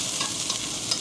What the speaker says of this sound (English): you saute the onions lightly